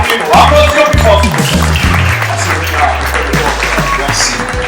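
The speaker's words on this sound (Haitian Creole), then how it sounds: "applaudir plus fort" A church congregation applauds in a dense, continuous patter of many hands, loud and sustained under tonal music and a voice.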